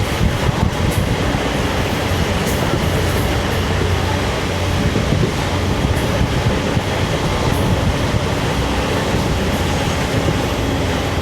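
A train rumbles steadily along the line near Amaravila station between Parassala and Thiruvananthapuram, a continuous loud rolling roar with faint wheel clatter heard from on board, no voices.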